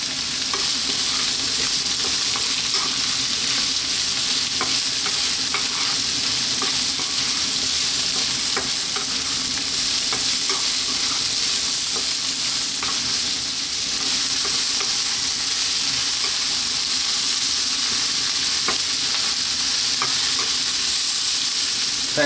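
Garlic, ginger and vegetables stir-fry over high heat, a steady loud sizzle running throughout with scattered scrapes and clicks of the spatula keeping everything moving.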